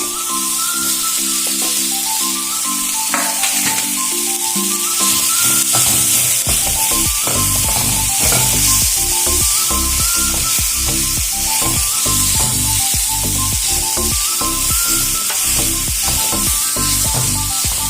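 Drumstick leaves and grated coconut sauté in a pan with a loud, continuous close sizzle, broken by repeated scraping stirs, while a low melodic background tone plays throughout.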